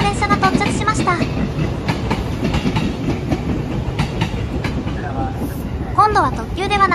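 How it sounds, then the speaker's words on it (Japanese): A Meitetsu express train pulls into Toyohashi Station: a steady rumble and clickety-clack of wheels over rail joints fills the platform, with brief high chirps or squeals near the end as it slows. "名鉄線の電車が到着しました。"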